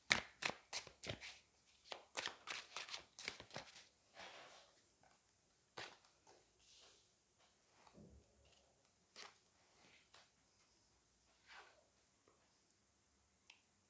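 Tarot cards are drawn and shuffled from a deck in a quick run of sharp slapping and flicking sounds, dense at first, then sparser, close to the mic.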